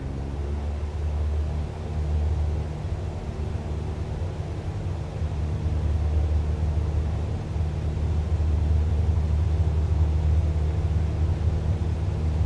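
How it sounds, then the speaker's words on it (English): Airliner takeoff roll in Microsoft Flight Simulator 2020, a steady low engine rumble and broadband roar that builds slightly as the run continues, constant with no talking. "Airspeed alive, 40 knots, 50 knots, 55 knots, rotate."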